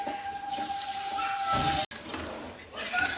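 Water hits a hot pan of spiced lentil and soybean mixture and sets off a loud, steady sizzling hiss. It cuts out for a split second, then carries on with a bubbling rush.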